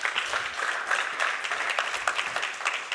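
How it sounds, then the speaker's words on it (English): A conference audience claps in a quick round of applause welcoming Paul Voss, General Secretary of European Aluminium, a fairly soft, steady patter of many hands lasting a few seconds. "Could we welcome him with a quick round of applause, please?"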